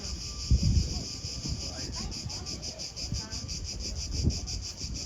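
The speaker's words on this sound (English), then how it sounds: "the cicadas will sing to you" Cicadas buzz in a steady, pulsing high drone from trees in Athens, continuous throughout, with faint low thumps and distant background noise beneath.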